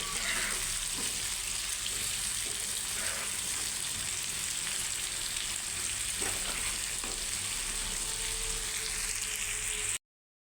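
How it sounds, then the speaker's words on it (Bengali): Taro corms (kochur mukhi) frying in hot oil, a quiet, steady sizzle and hiss that runs unbroken with faint kitchen clatter and no voices. "এই যে কচুরমুখীগুলো ভাজার জন্য দিয়ে দিচ্ছি ওই তেলের মাঝেই"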